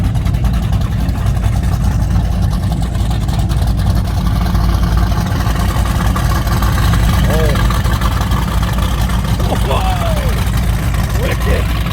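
Mercury Racing motorboat engine running steadily at close range on a lake near Bobcaygeon, a continuous loud rumbling drone with wind buffeting, and a few brief background voices.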